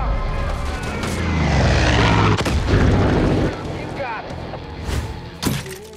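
Rolling explosions and heavy booms from the Far Cry 5 action game, a mortar battle with things being blown up, rumbling loud and broad with sharp blasts near the end and some talk mixed in.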